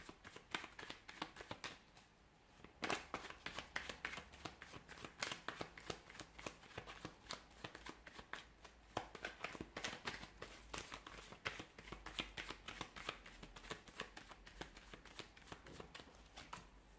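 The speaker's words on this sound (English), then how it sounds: "give the cards a shuffle" Tarot cards being shuffled by hand, a long run of rapid riffling and flicking bursts with short pauses between, close and fairly quiet.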